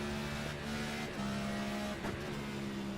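Race car engine in a racing video game, a steady droning hum with shifting pitch and brief dips as it changes gears, heard alone at moderate level.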